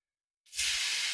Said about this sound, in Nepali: साग भुट्न लगाएँ